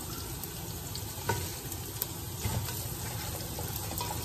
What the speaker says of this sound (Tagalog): Lutuin natin ang bawang. Dinikdik na bawang.